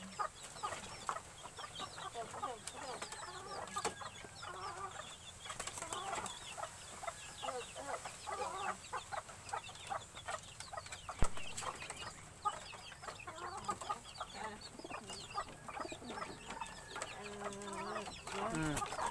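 Chickens cluck and chatter continuously close by in a busy farmyard, with a dense layer of overlapping calls and occasional louder squawks throughout.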